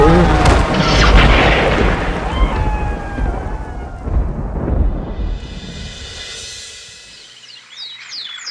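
Heavy rain with rolling thunder: deep booming rumbles dominate early, then fade into a steady hiss of rainfall, with faint tonal sound effects layered over the storm.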